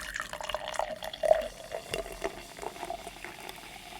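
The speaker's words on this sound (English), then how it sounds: "Pouring some." Cola soda fizzes and gurgles as it is poured into a glass, a soft close pour with bubbling and small splashes, faint and without speech.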